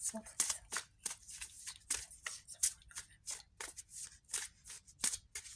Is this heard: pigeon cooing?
no